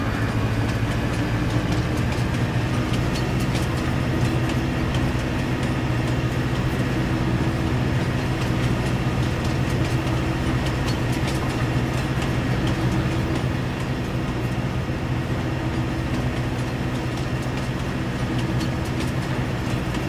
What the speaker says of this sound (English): Good looking train.